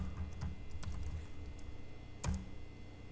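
A password is typed on a computer keyboard in quick, close, irregular key clicks, with a brief louder tap near the end, no talking over it.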